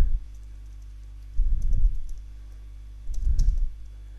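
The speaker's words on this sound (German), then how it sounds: "dann gehe ich hier eins drunter und schreibe Gregor" Two short bursts of computer keyboard typing while entering C# code in a class exercise, close and clicky, separated by a quiet pause.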